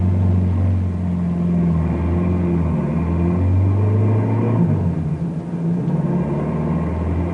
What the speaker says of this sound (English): Bill hears the car approaching